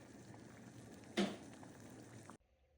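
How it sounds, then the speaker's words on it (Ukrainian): Ryadovka mushrooms boil in a pot with a steady, soft bubbling simmer. A brief louder splash or clatter comes partway through, and the sound then cuts off abruptly. "кіплять мої рядовочки"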